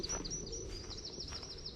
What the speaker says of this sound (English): The sound of the birds chirping.